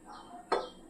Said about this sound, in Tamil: பாத்திரம் வச்சுருக்கேன்.